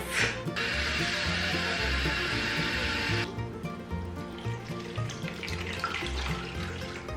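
Food is rinsed under a running kitchen tap, with a steady close stream of water that stops partway, followed by softer splashing and swishing in the sink.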